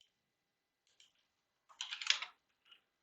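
A short burst of clicky computer keyboard keystrokes, likely a copy shortcut, during a web shell command-line hacking class: a couple of faint isolated taps, then a quick dense flurry of clicks and one last soft tap, close and alone.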